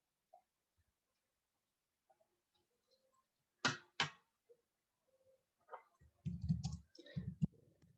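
Sparse, quiet clicks of typing on a computer keyboard, with a few scattered keystrokes and short bursts in a silent room, ending in a denser run of taps.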